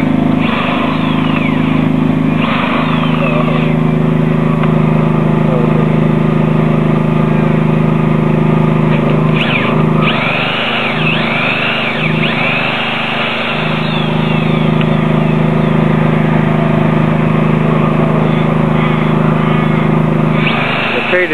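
A powered drill with a long bit bores into a living tree for cable and rod bracing, its loud, steady motor whine running throughout with slight dips as the bit bites, and a voice speaking underneath.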